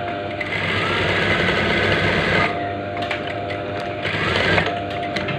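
A sewing machine stitches along a marked line to form a trouser pocket, running as a loud continuous whir that pauses briefly midway, then resumes with a few light clicks.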